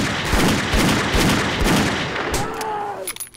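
Rapid .44 Magnum revolver shots fired at a bear in the 7 Days to Die video game, a fast string of loud, close blasts that stop near the end, followed by a few clicks and a fading ringing tone.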